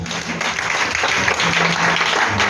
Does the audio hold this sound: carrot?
no